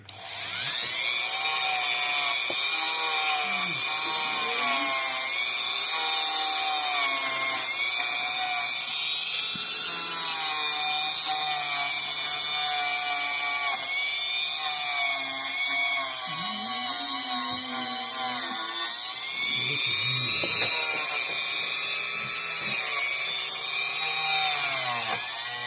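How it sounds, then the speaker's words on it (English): A Dremel rotary tool fitted with a wire brush cleans corroded terminals on a board, its high, whining spin holding steady and close for the whole stretch, dipping and rising slightly as it bites into the metal. "So I'm going to see if I can just take a Dremel tool, the wire brush,"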